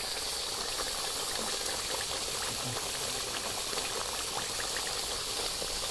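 Coconut milk simmers on a medium flame while being reduced into virgin coconut oil, giving a steady, close bubbling and crackling that runs evenly for the whole stretch with no voices.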